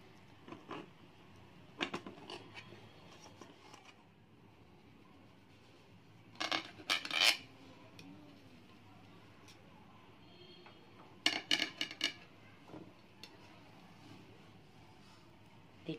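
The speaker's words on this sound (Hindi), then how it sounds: "मैं अभी ये काट के दिखाऊंगी कि कैसे लग रही है" A knife cuts into an eggless dry fruit cake studded with black raisins, making two short bursts of scraping and tapping against a quiet room background, with a few faint clicks between them and no talking.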